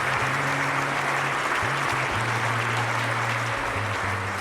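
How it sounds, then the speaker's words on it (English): A stadium crowd at a weightlifting event in a London 2012 video game roars and applauds continuously, a dense loud wash of cheering with steady tones running underneath. "the next event is the weightlifting, and this crowd is at fever pitch."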